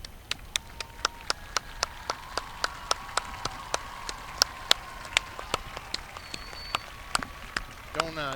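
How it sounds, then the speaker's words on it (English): A single person clapping steadily at a broadcast booth during a LaVergne vs Rockvale high school game, about twenty crisp evenly spaced claps close to the microphone over faint background noise. "You don't normally clap on a broadcast, but this is one of the few times that you will"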